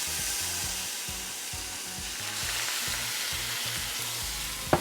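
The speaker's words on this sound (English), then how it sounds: "I'm going to go ahead and add in my coconut aminos to add a little bit of moisture." Coconut aminos hit fried rice in a hot pan, and a loud, continuous sizzle and crackle of frying fills the moment, with a sharp scrape of a utensil at the very end and no voices.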